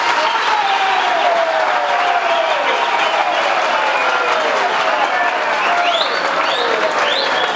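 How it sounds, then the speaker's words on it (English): A large crowd applauds the President at a prison gathering in Lusaka, with dense, steady clapping sustained throughout, loud and close, with some faint cheering and voices mixed in. "Let us clap for the President."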